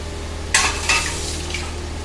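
Tomato puree drops into a pan of frying Rajasthani-style cabbage curry and gets stirred, making two quick splashy bursts that settle into a soft, continuous sizzle, close by with no talking.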